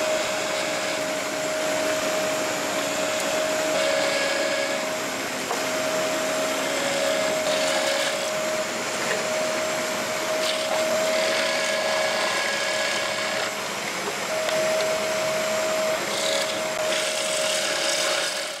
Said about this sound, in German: Und da bohre ich jetzt erstmal das Loch rein.